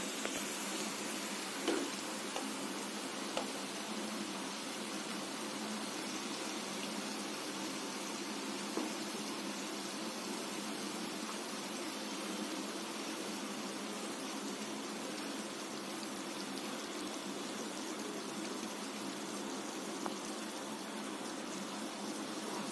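A pot of drumstick leaves soup with ground onion, tomato and pepper paste simmers on the stove, giving a soft, steady bubbling hiss that stays faint and even throughout, with no talk.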